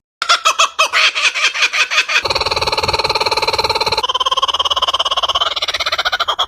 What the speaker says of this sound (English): The third bird is the kookaburra.